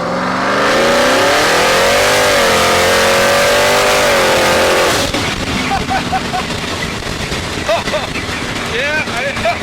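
An LSX-powered Willys on nitrous roars loud and close as it accelerates hard, its engine note climbing for several seconds, then dropping into rumbling, wind-buffeted cruising with brief voices.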